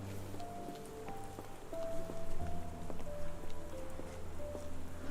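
Rain falls steadily in Sherlock Holmes: The Awakened, a soft continuous patter under faint musical tones and small ambient clicks, quiet and even with no talking.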